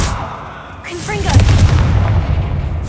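A Confringo blasting curse goes off in Hogwarts Legacy: a sharp magical crack followed by a rumbling blast with crackling debris, loud and close, while a voice speaks over it.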